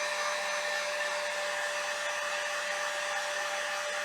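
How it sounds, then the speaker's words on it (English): A heat gun dries Gel Art ink on stencilled craft work, giving a steady, close, loud blowing whine that holds unchanged for about four seconds with no talking. "So I'm going to go ahead and dry this so I don't mess it up. So I just have my heat gun here."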